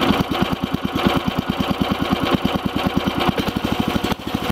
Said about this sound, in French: un ralenti vraiment ralenti